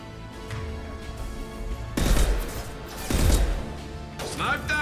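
Gunfire from a Mass Effect 2 battle in the Archangel mission, with bursts of shots and impacts in the middle and again later, over a steady background of game noise and music.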